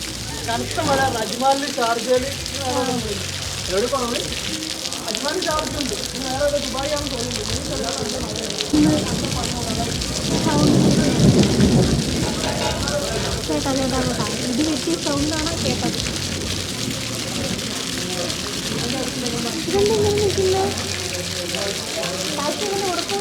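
Steady desert rain hisses and patters throughout, under frequent talking from several voices, with a louder rushing stretch in the middle.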